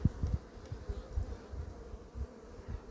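A low, continuous buzzing of many honey bees close by at a hive in October, swelling and fading in soft irregular pulses.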